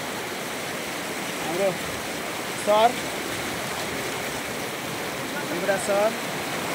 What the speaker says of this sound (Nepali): खोलाको बहाव एकदमै छ